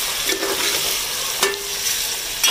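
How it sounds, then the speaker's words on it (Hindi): Minced beef keema fries with browned onions in a hot pan, with a constant close sizzle broken by sharp scraping bursts from stirring about once a second. "जैसे प्याज का कलर चेंज हो हमने कीमा डाल दिया"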